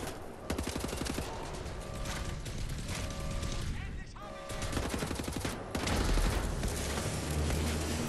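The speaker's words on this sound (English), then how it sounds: "Who is shooting now?" Dense, continuous gunfire from the shooter game Wolfenstein: The New Order, with rapid bursts and automatic fire running throughout over a busy game soundscape.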